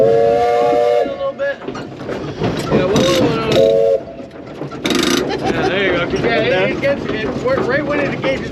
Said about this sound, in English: you can give the whistle 2 longs, a short, and a long